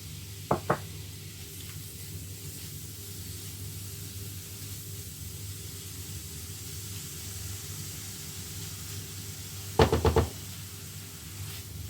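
Ripe banana pieces frying in butter give a steady, soft sizzle throughout, with a couple of sharp utensil knocks near the start and a brief cluster of knocks near the end. No one speaks.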